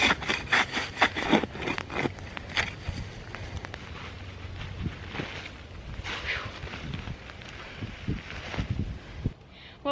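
A hand saw cuts through firewood outdoors while a shelter wall is being built, with quick rhythmic back-and-forth strokes at first, then looser rubbing strokes under light wind.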